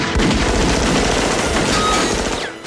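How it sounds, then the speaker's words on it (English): Rapid movie gunfire from 9mm guns, a dense continuous clatter of shots with booming low end, loud and sustained before cutting off near the end. "when you see the gunfire, most likely it's a 9mm"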